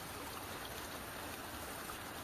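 Creek water flows near a beaver pond, a faint, even hiss of running water that holds steady without pause, distant and quiet.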